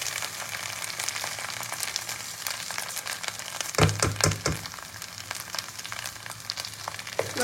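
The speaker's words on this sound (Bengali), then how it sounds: "এবার চালটাই মশলার সঙ্গে খুব ভালো করে ভাজতে হবে।" Ghee-coated rice frying in a pan with green chilli, black pepper powder and garam masala for a duck-egg polao, a steady close sizzle with a burst of louder crackling as it is stirred midway.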